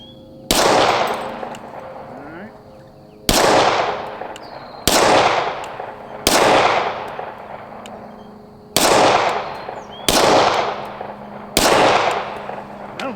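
ATI FXS 9 shotgun fired at targets outdoors, seven loud sharp blasts spaced a couple of seconds apart, each followed by a long decaying echo.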